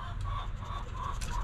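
A chicken clucking indoors in short repeated bursts, fairly close, over a steady low background hum.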